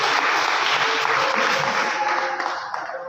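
A crowd applauds at a spiritual discourse, steady, full clapping from many hands that holds strong throughout and only starts to thin toward the end.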